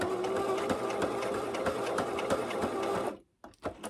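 A domestic sewing machine stitches a quilted, padded tablet bag in a steady rapid run of needle strikes for about three seconds, then stops abruptly, followed by a couple of brief handling clicks.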